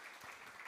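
Conference attendees clap after a presentation, a faint, steady patter of applause heard from a distance and lasting under a second.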